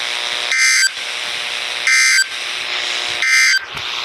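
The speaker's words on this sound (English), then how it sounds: "this station will broadcast severe weather alarm tones for wind hazard, flash flooding" NOAA Weather Radio EAS severe weather alert tones on station KZZ57 for a flash flood warning: three loud, bright electronic attention bursts, each about a third of a second, repeating roughly every 1.5 seconds over steady broadcast hiss.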